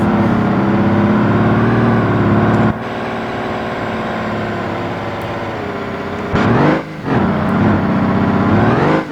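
Truck engine in the BeamNG Drive video game heard from inside the cab during a derby arena run, a loud, steady droning rev with harmonic whine that drops in pitch partway through, then surges again near the end.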